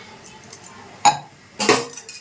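A utensil stirs rice flour and plain flour into salted hot water in a pot, giving two distinct clinks against the vessel with quiet scraping between them.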